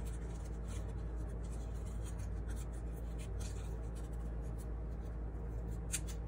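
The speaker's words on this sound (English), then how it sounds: "I'll just take my crayon and draw a circle like that." Soft, steady scratching of a crayon drawing a circle on paper, close and quiet over a faint background hiss, no talking.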